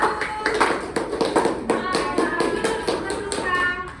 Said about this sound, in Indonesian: Tepuk tangan dong untuk kelompok 1.